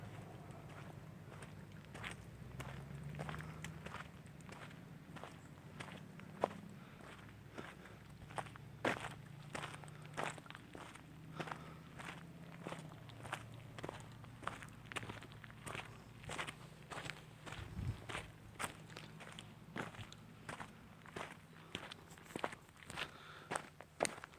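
Steady footsteps crunch along an old riverbed trail at the edge of a river bottom, an even walking rhythm close by, with faint wind in the background and no talking.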